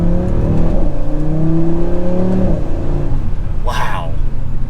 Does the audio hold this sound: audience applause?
no